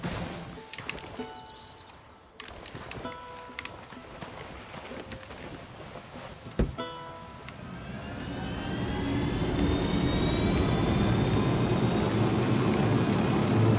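A helicopter in Ghost Recon Wildlands rises from quieter game sounds and clicks into a loud, steady rotor and engine roar with a climbing whine, building over the second half.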